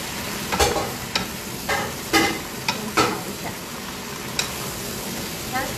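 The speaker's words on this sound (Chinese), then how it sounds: "要把另外一道菜炒一下" A dish is stir-fried in a home kitchen pan, with a soft sizzle underneath and repeated scraping spatula strokes coming in irregular bursts, close and moderately loud.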